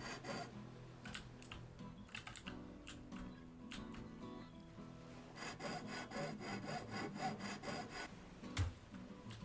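Cutting through a steel I-beam in a ship-breaking simulator game, a rhythmic rasping saw stroke repeating in quick bursts with brief pauses, fairly quiet and close.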